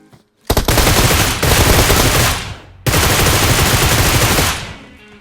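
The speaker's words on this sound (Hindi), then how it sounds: "ये पीछे वाला पोरा भी हमारे ऊपर दबा के गोली चला रहा है" Gunfire in the mobile shooter BGMI (PUBG Mobile) comes in two long, loud bursts of rapid automatic shots at close range, separated by a brief pause, with no voices.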